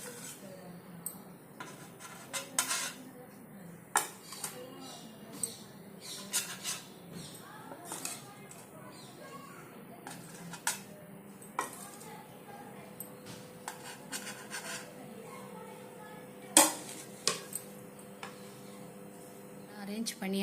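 Paneer tikka pieces set out one by one on a buttered baking tray, giving scattered light clinks and taps of metal at an uneven rhythm, close by, with a voice talking throughout.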